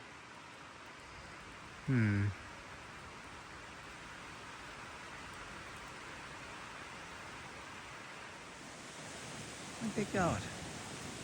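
Steady hiss of sudden rain falling outdoors on a farm, a broad continuous wash that fills the whole clip, with brief exclamations from a voice near the start and near the end.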